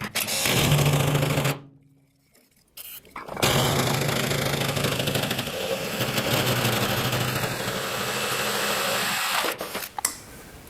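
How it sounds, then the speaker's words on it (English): A drill bores a 2-inch hole in an exhaust pipe while custom lake headers are built, giving a loud, steady whirring grind with a short pause partway through before the drilling resumes. "I'm going to drill a 2-inch hole right here."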